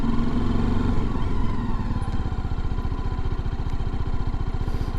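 Motorcycle ridden slowly at walking pace on a road in Devon, a steady close engine thrum that picks up into a rhythmic, rising beat as it begins to accelerate, with no talk.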